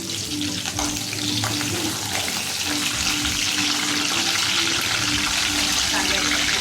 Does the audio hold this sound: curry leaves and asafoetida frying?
yes